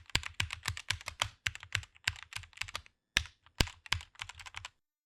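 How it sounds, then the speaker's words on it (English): Rapid keystrokes on a computer keyboard typing a search term, close and clear in quick irregular bursts with a brief pause before the final taps, then silence. "Next, type Divergence Screener in the search bar."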